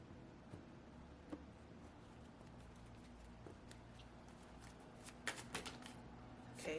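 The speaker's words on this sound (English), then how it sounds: "So I'm just shuffling" Tarot cards are shuffled close to the microphone in a steady, soft patter of riffles and slides, with a few sharper snaps near the end and no talking.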